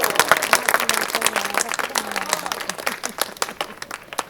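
Scattered applause rises from the audience at a poetry recital, thinning out as it goes, while a voice talks over the clapping.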